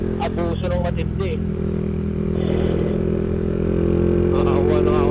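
A stock Honda XRM125 motorcycle engine runs steadily during an endurance ride, a continuous close mechanical drone with some rattle, while people talk over it.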